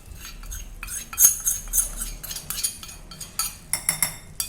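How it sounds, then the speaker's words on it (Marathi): A spoon scrapes and clinks against a bowl while an eggplant bharit mixture with turmeric is stirred, giving irregular close metallic taps and rubbing strokes with no talk. "हे छान मिक्स करून घ्यायचं आहे"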